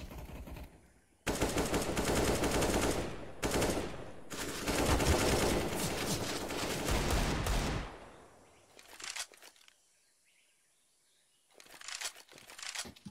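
Rapid automatic gunfire in an online multiplayer shooter game comes in loud sustained bursts, with short pauses and a quieter stretch before a final brief volley.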